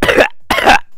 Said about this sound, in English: I start like trying to cough up a lung